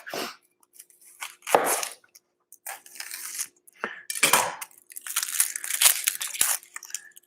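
Knife chopping an onion for a spicy chickpea and peanut butter soup, with separate crunchy cuts and bursts of rapid chopping on a board, close and fairly loud, with small clinks in the pauses.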